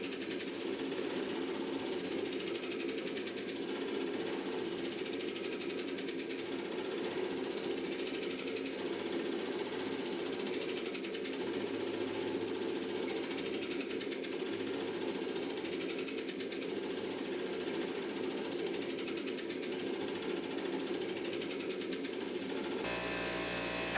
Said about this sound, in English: I take it to the press and set the weld.